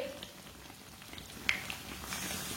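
Pastry bread pockets frying in shallow oil in a pan over a low flame, a quiet steady sizzle and crackle with a few brief pops and no talking.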